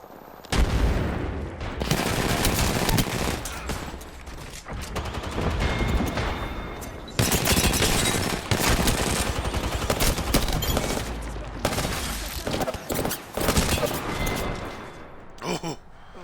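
Gunfire in the video game Apex Legends, dense rapid bursts of automatic fire and impacts that fill almost the entire stretch at high intensity.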